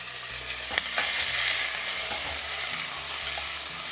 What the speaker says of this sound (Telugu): ఇలా జస్ట్ చికెన్ని కొంచెం నూనెలో ఫ్రై చేసిన తర్వాత